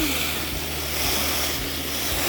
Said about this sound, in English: I'm going to spray these trees down